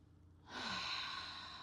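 One long, soft exhale through the mouth during a yin yoga session, a close, breathy sigh that rises and holds after a brief pause.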